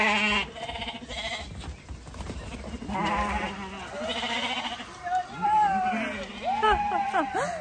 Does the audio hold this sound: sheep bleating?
yes